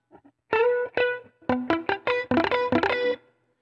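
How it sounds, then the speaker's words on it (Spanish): An electric guitar through a Line 6 Pod Go plays a short, choppy run of distinct picked notes with a driven, distorted tone, each note clear and ringing briefly, with no talking. "si tú le bajas el drive, pues eso tiende a bajarle lo que nosotros escuchamos como distorsión."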